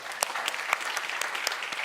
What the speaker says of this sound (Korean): 서로를 응원하는 박수 한번 칩시다